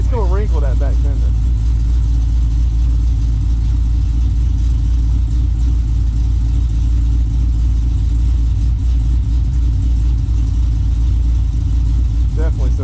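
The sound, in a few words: Pontiac GTO driving with exhaust leak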